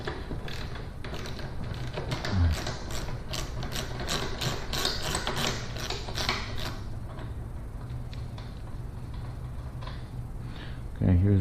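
A socket wrench ratchets steadily while loosening the axle nut on a Yamaha Warrior 1700 motorcycle, giving a long run of close, quick clicking with a few metallic taps. Someone talks over parts of it.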